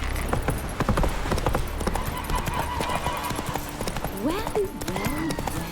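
Horse hooves galloping in The Witcher 3 video game, a rapid, steady clip-clop close by, with speech over it and a brief whinny near the end.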